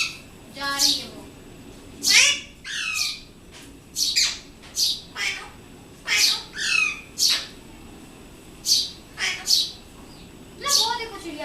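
A pet parrot lets out repeated sharp, loud squawks in irregular bursts, some close together, with a voice mixed in at times.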